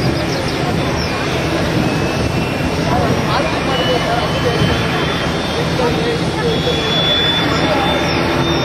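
A HAL Tejas fighter jet sits on the runway at Yelahanka airbase, its engine giving a steady, loud, broadband roar with a high whine for the whole stretch, continuous and unbroken.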